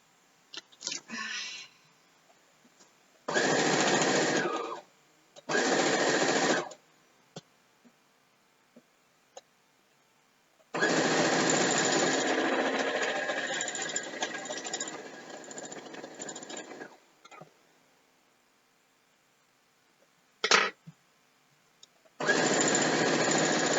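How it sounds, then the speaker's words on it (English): A sewing machine stitches quilt pieces for a Final Fantasy screenshot quilt, running in several separate bursts of steady whirring, one long run in the middle and short starts between, with quiet gaps. "Alright, let's sew these on."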